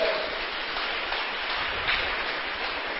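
A church congregation claps together during a service, a dense, steady wash of applause that fills the whole moment without any pause, heard at a moderate distance.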